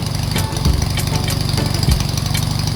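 A freshly rebuilt car engine idles on its first start, a steady loud rumbling chug with periodic knocks and ticks recurring through the run and no talking.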